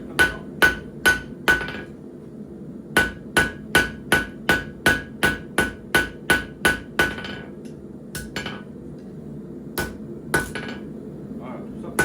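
A hammer strikes a knife blade on the forge while it is counter-formed. Loud, close, sharp metallic blows ring out in quick, regular runs of several strikes, with short pauses between the runs.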